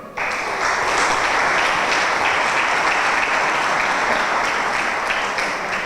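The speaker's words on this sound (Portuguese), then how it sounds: "uma salva de palmas para ele já agora" An audience at a local political presentation gives a sustained round of applause, moderately loud and even from start to finish, with no clear talk over it.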